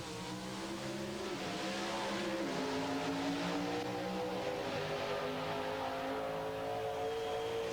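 Pro Stock drag racing cars from a 1991 NHRA race scream down the strip with a loud, sustained engine roar, rising in pitch through gear changes, heard continuously and alone.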